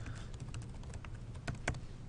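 A name is typed on a computer keyboard in bridge design software, a quick run of light, close key clicks with a couple of sharper taps near the end.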